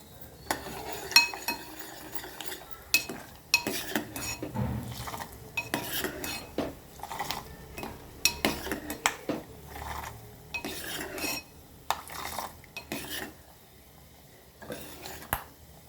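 Urad dal and cumin tempering is stirred in a pan, with repeated scraping and clinking of a spoon against metal in irregular bursts, close by, while a voice talks quietly at times.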